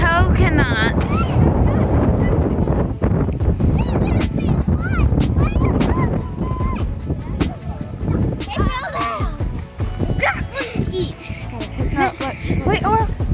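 Strong wind buffets the microphone outdoors near coconut palms, a loud continuous rumble and gusting roar throughout, with several people talking over it.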